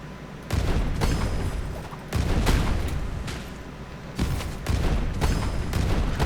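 A cannon fires in the video game Naraka: Bladepoint, several heavy booming blasts in quick succession with rumbling tails over dense combat noise, loud and close.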